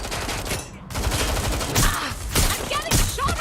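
Gunfire in the open-world action game Watch Dogs: Legion, a loud, close fusillade of sharp bursts in repeated clusters with brief gaps between volleys.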